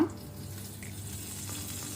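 Spices temper in hot oil in a pan for mackerel masala fry, a soft, fairly quiet sizzle with faint stirring scrapes and no speech.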